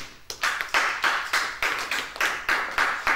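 A church congregation at a worship service claps in a steady, loud rhythm, about two claps per second, with no talking over it.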